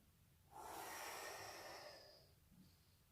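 One deep breath is drawn in through the nose during a back exercise, a close, airy inhale lasting over a second and then fading, with quiet background otherwise.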